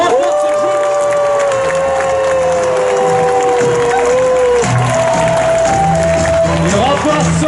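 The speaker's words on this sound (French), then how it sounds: "on applaudit bien fort le royaume de l'Anjou qui remporte ce jeu" Crowd applauding and cheering loudly and steadily for the winning Anjou team at a knights-versus-barbarians game event in Angers, with a long sung or shouted tone and voices over the clapping throughout.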